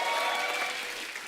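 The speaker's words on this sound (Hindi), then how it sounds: "इनके लिए जोरदार ताली हो।" Studio audience applause on a television comedy show, a dense, steady burst of clapping from the crowd throughout, loud and close with no speech over it.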